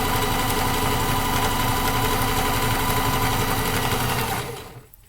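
Sewing machine running with a slightly dull needle, a loud, close, continuous mechanical whir of rapid stitching that cuts off near the end.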